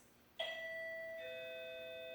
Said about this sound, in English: It's a doorbell, okay?